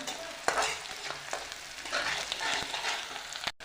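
Onion frying in oil for a village-style kardi leafy vegetable dish, a steady close sizzle with scraping spatula strokes and clacks on the pan, with no voices.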